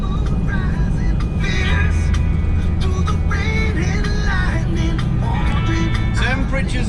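Vehicle cruising steadily at 60 along Highway 14 beside the Columbia River in Washington, a constant loud road and engine drone with wind noise throughout.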